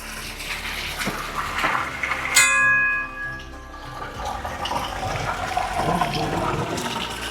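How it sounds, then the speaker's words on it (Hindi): Mountain water flowing near temple steps in Kugti Valley, Chamba, a steady rushing wash throughout, with a sharp ringing clang rising briefly over it. "ये देखो भाई, पहाड़ों से पानी आता हुआ"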